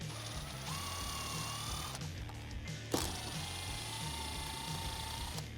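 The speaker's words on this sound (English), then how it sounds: "I'm going to be using a T25 Torx bit to start removing the Torx bolts that are holding on the top piece of the carrier" A T25 Torx bit backs out Torx bolts from the tire carrier of a Deegan 38 rear bumper on a Jeep Wrangler JL: a steady mechanical whir with a whining tone, broken by a sharp click midway and a short pause.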